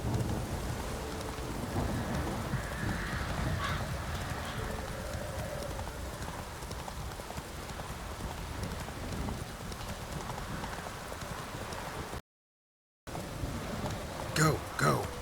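Horse hooves galloping in The Witcher 3 video game, a steady clip-clop running under rain and distant thunder, with a brief dropout near the end.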